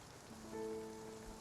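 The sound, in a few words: rain falling in Spiritfarer video game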